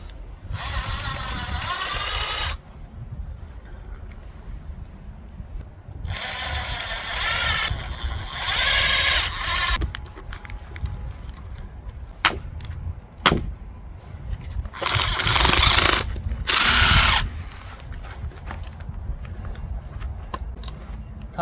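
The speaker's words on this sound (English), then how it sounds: "let's try drilling a hole through both of these" A power drill bores through a solid-state rack battery in several loud bursts, starting and stopping, with sharp clicks and a low rumble between the runs.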